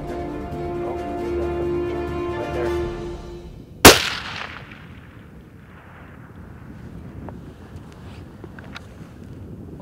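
A single sharp rifle shot cracks out at a deer roughly 875 yards off downhill, breaking over a low engine-like hum and wind, then fading into a rolling echo and quiet breezy background.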